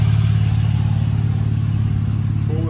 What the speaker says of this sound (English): I don't know if you guys can hear these cars driving by.